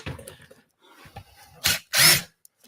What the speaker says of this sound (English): Here, I'll use your drill.